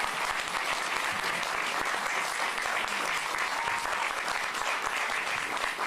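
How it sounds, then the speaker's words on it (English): Dense, steady applause from a large audience fills the room for the city's police and fire chiefs at a State of the City address, loud and continuous throughout with no break. "Let's give them another round of applause."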